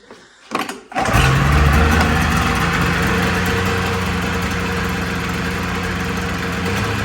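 A rebuilt 1998 Polaris XLT Special snowmobile engine catches after a brief cranking stutter, then settles into a loud, steady, buzzy two-stroke idle close to the listener.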